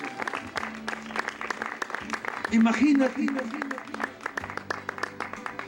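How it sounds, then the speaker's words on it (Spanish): A church congregation claps in praise while a preacher keeps speaking, with scattered, uneven handclaps beneath the voice and a brief swell of voices midway. "Denle un aplauso a Dios"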